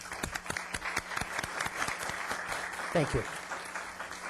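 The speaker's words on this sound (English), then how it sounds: "So please give them a round of applause as well." Applause at a Newport Beach City Council regular meeting, a fairly quiet, distant patter of clapping from a modest audience, with someone briefly speaking near the end.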